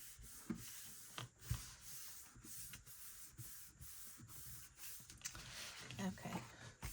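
A paper folio piece rubbed flat by hand, repeated brisk scraping strokes in an irregular rhythm, quiet and close.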